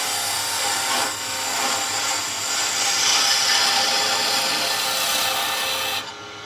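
Woodturning gouge cutting a spinning wooden workpiece on a lathe, a steady close scraping hiss that continues unbroken for about six seconds before cutting off abruptly, with no talk.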